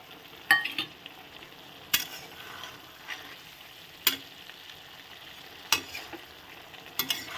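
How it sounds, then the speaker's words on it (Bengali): Eggplant frying in a pan is stirred with a utensil, giving a soft sizzle and a few sharp scrapes or taps at irregular intervals, fairly quiet and with no talking. "দিয়ে ভালো করে নেড়ে দেব।"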